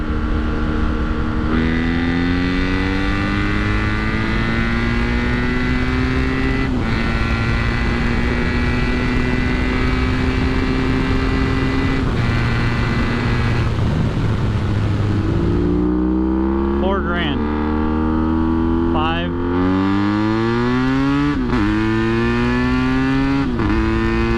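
BMW F800GS motorcycle fitted with a Danmoto XG-1 exhaust climbing a hill under power, a loud steady engine drone rising and falling in pitch through gear changes, heard up close from the rider's position with wind rush.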